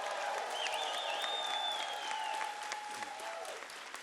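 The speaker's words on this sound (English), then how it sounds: "And let's give them a round of applause." An audience at a political rally on raising New York's minimum wage bursts into sustained applause, dense clapping with scattered cheers and a whistle-like whoop rising above it.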